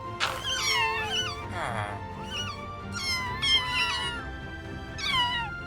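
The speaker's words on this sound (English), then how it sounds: "Kittens have also been updated, including a new set of kitten sounds." Minecraft kittens meowing in a fresh set of game sounds: a run of high, clear mews, some rising and falling, sounding close and fairly loud, with a low background hum beneath.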